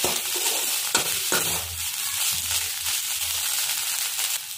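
Ingredients for hukati, a traditional Tai Ahom dish, frying in a pan, with a loud, continuous close sizzle and scraping stirring strokes throughout.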